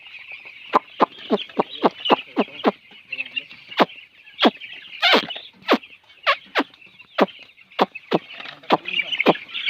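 A poultry farm holding about 3,700 chickens fills the air with a dense, continuous chorus of high peeping and clucking, with sharp individual calls popping out repeatedly over the steady flock noise.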